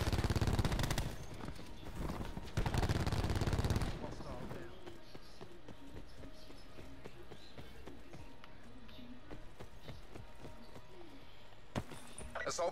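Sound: sentry turret gunfire in the video game Call of Duty Black Ops 4

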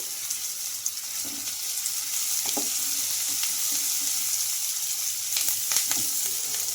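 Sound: frying onions and curry leaves in a pan

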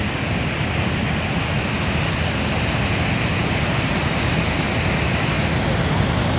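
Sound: waterfall

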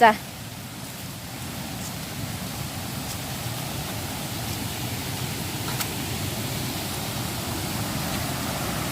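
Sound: flowing stream water in the forest

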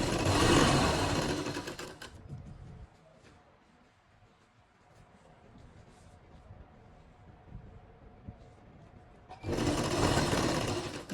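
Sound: sewing machine stitching a shirt sleeve

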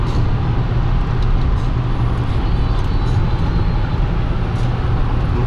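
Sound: Toyota Camry 30 driving on cruise control at 120 km/h

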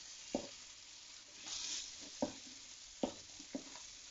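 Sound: chorizo and paprika being stirred and fried in a pan

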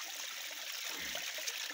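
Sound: natural water source flowing in an African village

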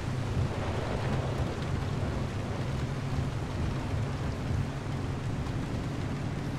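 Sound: rain and thunder while driving, from the video game Pacific Drive

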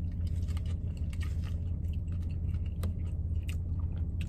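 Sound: chewing a cheeseburger

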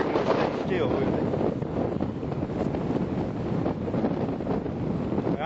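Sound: wind blowing into the microphone outdoors while fishing

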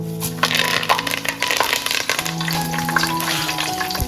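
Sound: cumin, bay leaf and curry leaves frying in hot oil

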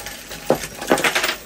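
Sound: gold coins dropping from treasure chest

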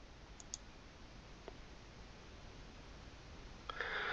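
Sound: computer mouse clicks

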